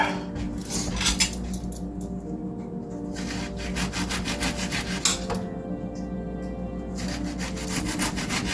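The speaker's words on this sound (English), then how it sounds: "I'm going to chop up some of this." Knife work on a wooden cutting board as a purple onion is chopped for Mexican lasagna, giving steady rubbing, scraping strokes with a few sharper knocks, close and alone without talk.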